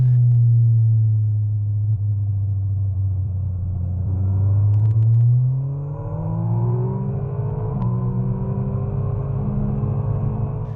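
An MV Agusta Brutale 1000RR motorcycle is ridden through hairpin bends in first gear, its engine a loud, steady low drone that rises and falls in pitch as it sweeps around the corners, with no talking.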